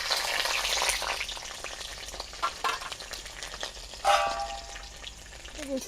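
Fenugreek seeds and fifteen to twenty garlic cloves, added after black cumin, fry in hot oil with a steady close sizzle and crackle and a few brighter spits and pops partway through.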